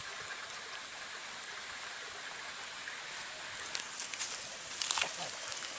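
Water trickles and splashes steadily out of a fish trap set in a stream, a soft continuous rush with a few brief louder splashes toward the end.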